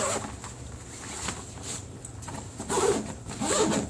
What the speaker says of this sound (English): So you just zip this up.